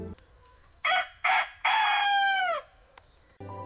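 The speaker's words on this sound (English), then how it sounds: "The domestic, high-pitched, masculine morning rooster's crowing was a helpful nature's wake-up tool." A domestic rooster crows in the morning, one loud nearby call of two short opening bursts and a long drawn-out final note, with quieter sounds before and after.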